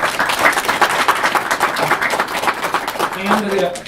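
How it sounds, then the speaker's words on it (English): An event audience at the Albany Medical Center claps in a dense, steady burst of applause for about four seconds, fairly close and moderately loud, fading slightly at the end. "So give them a big round of applause, please."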